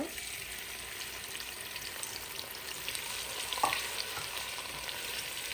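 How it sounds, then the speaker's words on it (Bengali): Prawns frying in about a cup of hot cooking oil, a continuous crackling sizzle at moderate level with a slight spatter burst partway through, and no voices. "ঢেলে হালকা করে একটু ভেজে নেব। চিংড়ি মাছ ভাজতে কিন্তু বেশি সময় লাগে না।"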